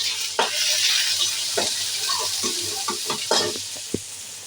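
Dal is cooked and stirred in a pan, a constant close sizzle broken by repeated spoon scrapes and knocks against the metal, with a sharp clack near the end.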